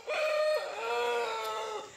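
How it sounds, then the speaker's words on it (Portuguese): A rooster crows once, a drawn-out, strained cock-a-doodle-doo heard fairly clearly on its own. "É o galo chobão cantar"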